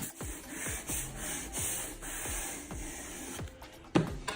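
Repeated scrubbing strokes of a brush working grout sealer into tile grout lines, a steady rhythmic rubbing about every half second, close and fairly quiet, with a sharper knock near the end.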